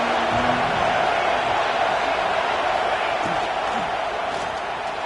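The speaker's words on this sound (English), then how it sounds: "This crowd ready to make its presence known." A steady, loud stadium crowd roars without a break from a college football video game, a dense wash of massed voices that stays even from start to finish.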